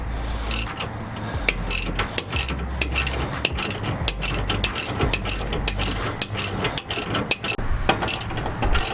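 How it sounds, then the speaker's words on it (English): Ratchet loosening the shock absorber bolts under a 2004–2015 Ford F-150, with rapid close clicking in repeated strokes, broken up by short pauses and scraping metal knocks. "We're just going to loosen up the bolts underneath."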